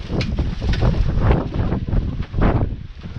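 Gusty wind rumbles steadily against the microphone, rising and falling in loud buffeting waves with no one speaking.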